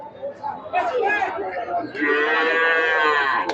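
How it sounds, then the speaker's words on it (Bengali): Friesian cattle low loudly and close by at a busy cattle market, one long moo after another with a rising, sustained tone, over faint crowd chatter. "অসংখ্য গরু রয়েছে আমাদের এই হাটে"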